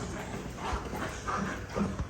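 Puppies heard outdoors, with soft whimpers and a few short yips over a busy, noisy background, fairly close, with no speech.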